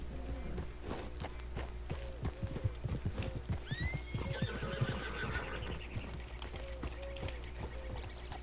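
A white Shire horse in the Red Dead Redemption 2 video game clops along with steady hoofbeats and gives a loud, rising whinny midway, close and clear with no talk.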